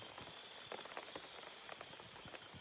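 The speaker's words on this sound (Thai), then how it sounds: "ฝนตกเฉยเลย" Steady rain patters on leaves and surfaces in a forest, with scattered louder drips landing close by; no voices.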